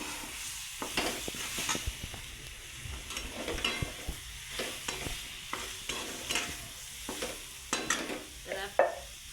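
Garlic, cumin, turmeric and a little coconut fry in a pan, with a soft sizzle beneath repeated close scraping strokes of a spoon stirring at an irregular rhythm.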